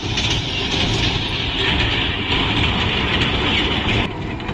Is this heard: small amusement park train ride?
yes